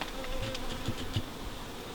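Wasps buzz steadily around the entrance of a wintering beehive fitted with a Ceracell Beast Blocker robbing screen, a close, continuous insect drone with a few louder passes.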